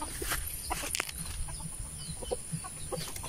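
Chickens cluck steadily in an unfinished poultry house, a dense, close chorus of short clucks and calls over a constant high hum, with no talk.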